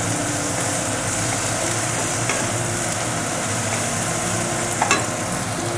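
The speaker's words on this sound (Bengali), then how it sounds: "এইবার আমি দিয়ে দেব একটা মিডিয়াম সাইজের টমেটো কেটে রেখেছিলাম" Chopped medium tomato hitting hot oil in a pan for a Bengali tengra fish curry, giving a steady continuous sizzle and frying hiss with faint stirring clinks, near and fairly loud throughout.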